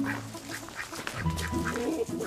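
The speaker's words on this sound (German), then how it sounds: "Auf dem Grubhof hat es neben den 4 Enten ganz verschiedene Hühnerrassen." Four ducks and several breeds of chicken on the Grubhof farm in Lustdorf, Switzerland, with repeated nearby quacking and clucking calls at an uneven pace over outdoor background noise.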